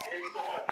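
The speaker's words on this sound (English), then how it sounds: "There's my dog in there whining." A dog whines faintly from another room in short, thin whimpers, mixed in with quiet talk nearby.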